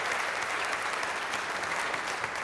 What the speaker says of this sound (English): Huge round of applause for our 2017 FIA World Touring Car Champion.